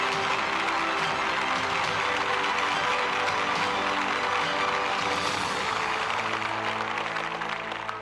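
Applause from a crowd at a government launch ceremony in Bhopal, a dense, steady wash of clapping held at high level throughout, with faint background murmur.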